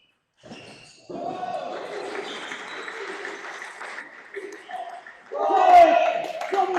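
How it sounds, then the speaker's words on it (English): Brighton home crowd at a British League table tennis match cheering and clapping, a sustained roar that swells loudly near the end, with a commentator's voice talking over it. "the Brighton crowd's going mental"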